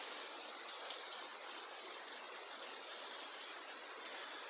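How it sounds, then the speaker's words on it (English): A river flows near a roadside gutter in Chile, its steady broadband rush of water continuous and moderately distant throughout, with no voices over it. "You hear the river in the background there."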